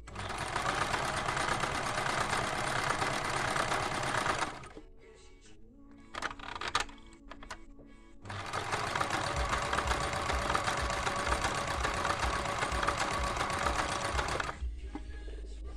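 A Yamata Line 05 sewing machine running a decorative overlock stitch, its fast steady mechanical whirr coming in two long loud bursts separated by a pause with a few clicks and light handling noises.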